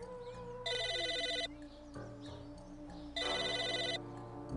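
A telephone rings in two bright, trilling electronic bursts separated by a short pause, loud and close, over a quieter tonal background.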